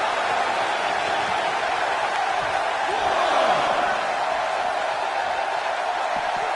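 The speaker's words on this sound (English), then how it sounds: "I don't remember the last time I heard a more passionate crowd than the one we have here tonight" Arena crowd in the wrestling video game WWE 2K19 at a Crown Jewel pay-per-view event, a dense, steady roar of cheering that swells slightly midway, with a commentator's voice faintly in the mix.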